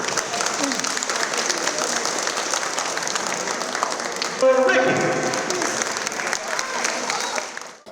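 Applause at a karate tournament, a sustained wash of clapping from a crowd that holds steady throughout and fades out at the end, with a brief burst of louder noise midway.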